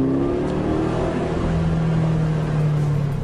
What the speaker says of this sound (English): Next thing you hear is that great exhaust.